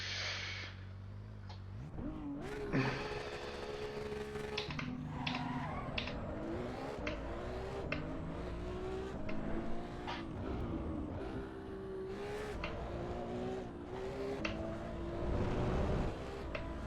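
A Ferrari in the racing game Assetto Corsa Evo revs and accelerates continuously, with the engine note climbing and dropping through gear changes, loud and close throughout.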